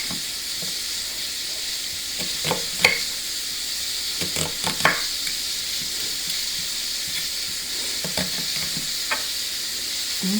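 Onions frying in a pan give a steady, hissing sizzle with occasional spatter pops and scraping stirs, close by and with no voices.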